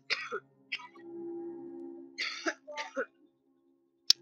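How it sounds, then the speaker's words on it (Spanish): Several short harsh coughs, likely from a person at night with a bad cough, come in separate bursts with pauses between them. A low steady hum runs underneath, and a sharp click sounds near the end. "Tengo una tos terrible."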